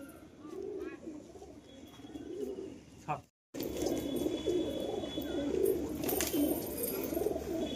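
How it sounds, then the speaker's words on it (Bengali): Betting pigeons coo in a loft, with repeated low, throaty coos over a steady background hum. A brief silent break splits the sound, and it then resumes, slightly louder and busier. "কবুতরটা, তোমাদের তুলে ছেড়ে দেখাচ্ছি"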